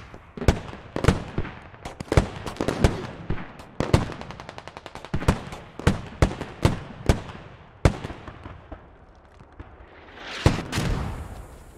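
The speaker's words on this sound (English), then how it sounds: "We got mortars coming in on it." Incoming mortar fire in Squad: a loud, close string of sharp blasts and cracking bangs, some in rapid clusters and others spaced apart, rings out over roughly twelve seconds with no talk.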